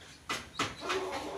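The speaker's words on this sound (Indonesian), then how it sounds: "Wah, jalak rupanya" A starling (jalak) calls three times in quick succession, each a short, harsh, fairly close burst.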